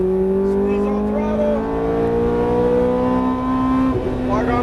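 Ferrari F430 on a race track, its engine note dropping as the car brakes hard and downshifts once, loud and close, with a sharp blip near the end, while an instructor talks over it.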